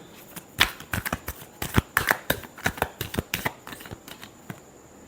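Tarot cards shuffled by hand in a large shuffle, a quick run of crisp riffling snaps and flutters in uneven bursts, close and alone without talk.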